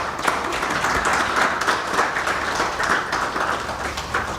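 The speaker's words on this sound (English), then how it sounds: "So we can clap for him as he comes over." Conference audience at a legal education event in Kenya clapping as a panel moderator walks up, a dense, even patter of many hands sustained throughout at moderate level, no talk over it.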